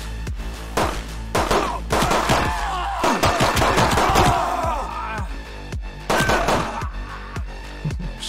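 Gunfire in the video game Midnight Fight Express comes as sharp, loud shots, some single and some in quick bursts, with a dense flurry in the middle, over a low background bed.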